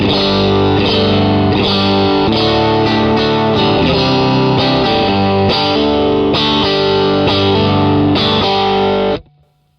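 Electric guitar through a Fender Deluxe Reverb amp on the vibrato channel, played as a continuous, loud strummed chord passage with a warm, slightly driven tone, then cut off abruptly at the end.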